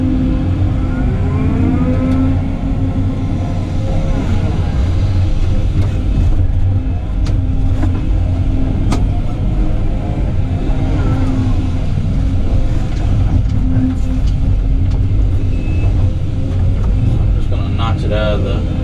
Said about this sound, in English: I'm going to take the excavator and notch a little road in the side of this hill